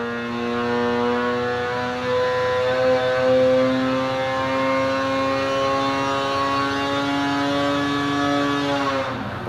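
A Polaris 850 Axys snowmobile engine with a high-compression Stage 2 kit screams on a dyno with a hot pipe, a loud, steady high-rpm drone whose pitch climbs gradually before dropping away at the end.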